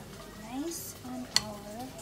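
Green onions are stirred in a frying pan for Korean japchae, with a soft sizzle, scraping stir strokes and one sharp utensil clink, while a voice murmurs faintly in the background.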